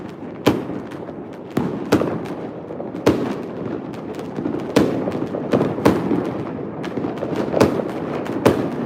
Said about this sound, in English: but here it's like fireworks.